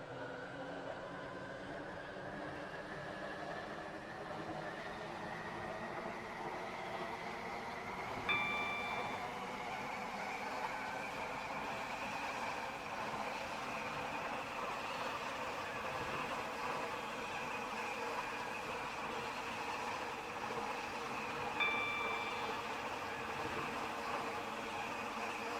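A Stepford Connect train in the Roblox game Stepford County Railway runs with a steady, unbroken rumbling drone and a slowly rising motor tone, with two brief faint tones about fourteen seconds apart.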